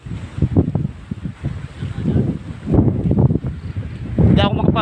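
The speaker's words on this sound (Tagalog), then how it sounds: "Hindi ako makapadyak, ang lakas ng hangin dito." Strong wind buffets the microphone on a windy stretch of road while a cyclist pedals, a steady low rumbling roar that surges and gusts throughout, loud and close.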